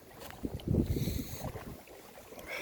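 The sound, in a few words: cold wind at winter swimming spot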